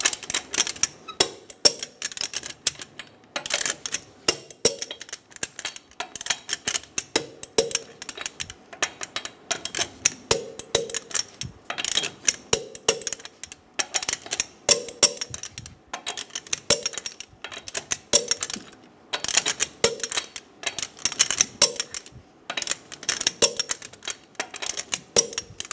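Wheel lug nuts on a 2000-2006 Toyota Tundra are tightened with a torque wrench in a star pattern to 83 foot-pounds, giving rapid, close, crisp ratcheting clicks in steady bursts throughout.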